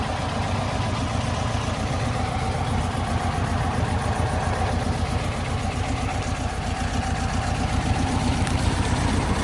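A 1969 Porsche 912 engine idles steadily with a low, even rumble and fast regular pulsing, close by and unchanging throughout.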